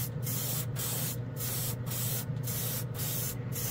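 Mr. Color GX paint sprays from a spray can onto a scale model in a steady continuous hiss, with short regular breaks between bursts.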